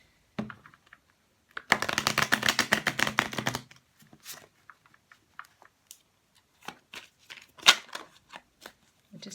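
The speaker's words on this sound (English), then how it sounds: "we'll shuffle them back in and see if they want to come back out in the reading" A quick riffle of tarot cards being shuffled, a dense rapid flutter lasting about two seconds, followed by scattered soft taps and card handling.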